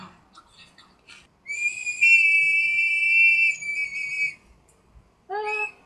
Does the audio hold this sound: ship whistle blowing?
yes